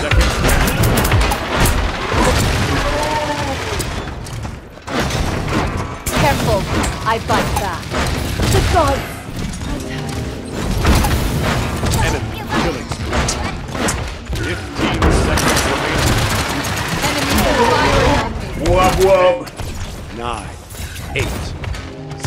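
Loud, continuous gunfire and thudding explosions from the video game Paladins, with repeated heavy bursts and impacts across twenty seconds and a voice chattering through the action.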